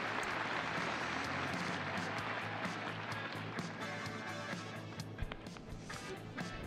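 Audience applause at an equestrian arena after a five-year-old dressage horse's final round at a national championship, a dense, steady wash of many hands clapping that fills the whole clip at moderate loudness.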